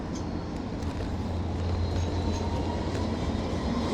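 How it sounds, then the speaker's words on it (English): A tram passes on a city route near Queens Park and Centennial Park, heard as a steady, loud low rumble with continuous rail noise throughout, no speech over it. "Oh look, I've got a tram, so I'll get a green light."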